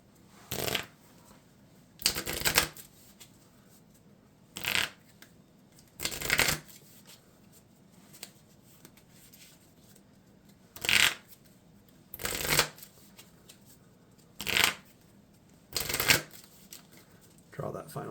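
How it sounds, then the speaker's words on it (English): A deck of game cards is riffle-shuffled over and over at a tabletop card game, making crisp, short bursts of flutter separated by pauses, close and fairly quiet. "shuffle my deck"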